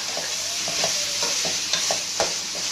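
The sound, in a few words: bitter gourd and chicken mince being mixed and cooked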